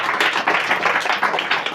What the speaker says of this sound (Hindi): अपन तालियों से उनकी स्वागत